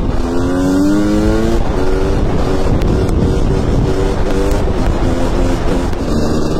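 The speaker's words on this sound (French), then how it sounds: "Qu'est-ce que je kiffe ce bruit au ralenti, à l'arrêt, comme ça en ville" A car engine idles at a standstill in town, a steady close rumble with a low harmonic drone that swells slightly at the start, under light wind noise and no speech.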